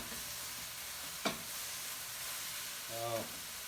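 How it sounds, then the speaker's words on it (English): Ground meat for Ants Climbing a Tree browning in a pan at home, a soft steady sizzle and hiss that runs throughout, with a brief utensil tap and a short stretch of talk near the end. "If you can see it, the meat is starting to brown."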